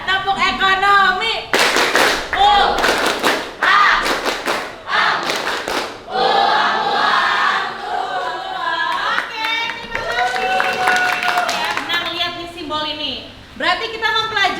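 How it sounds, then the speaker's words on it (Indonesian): Students in a classroom perform the 'tepuk ekonomi' chant, bursts of rhythmic group clapping alternating with sung or chanted voices, loud and close. "bagaimana kalau kita berikan tepuk ekonomi?"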